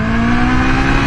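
An old Japanese inline-four motorcycle engine revving hard close up, a loud, steady high-pitched buzzing drone throughout.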